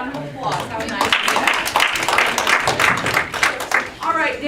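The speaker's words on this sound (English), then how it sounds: "a little round of applause" A classroom of students gives a short round of applause at a teacher's art history review. The scattered claps come through in bursts while a voice talks over them.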